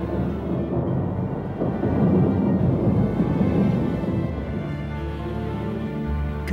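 Thunder used as a documentary sound effect: a deep, rolling rumble that swells and fades over several seconds, loud and continuous, with no voices.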